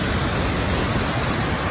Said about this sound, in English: now we are in Agua Azul. This is our second waterfall.